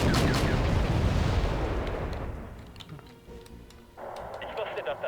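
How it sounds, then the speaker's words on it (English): Heavy artillery and gunfire shelling a stretch of woods in the Cold War strategy game Wargame: European Escalation, opening with a loud rumbling barrage that fades into scattered sharp reports and ticks before a dense burst of crackling fire returns. "I'm gonna start firing on the woods."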